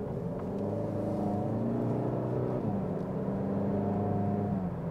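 Kia ProCeed GT engine accelerating in normal mode, a steady droning hum with rising tonal engine notes heard from inside the car, loud and continuous with no talking.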